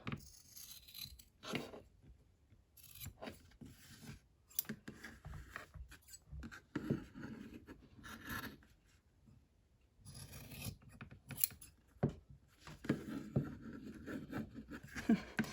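Scissors trimming macrame rope ends on a garland, a series of quiet close snips and rasping cuts in irregular bursts separated by brief pauses, with no voice.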